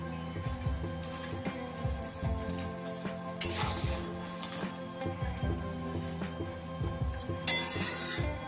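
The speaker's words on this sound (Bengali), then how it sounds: "খুব ভালো করে যখন গ্রেভিটা ফুটে গেছে, এইবার ভেজে রাখা মাছগুলো দিয়ে দিলাম।" Fried mola carplet fish dropped into a boiling sour gravy, with a steady bubbling sizzle and occasional utensil clinks and scrapes against the pan, close and continuous throughout.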